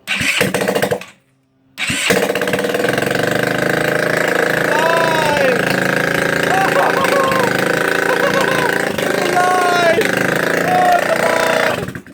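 A GY6 scooter engine, just fitted with a new Shorai battery after a timing adjustment, cranks briefly, pauses, then fires and runs steadily at close range for about ten seconds while voices talk over it.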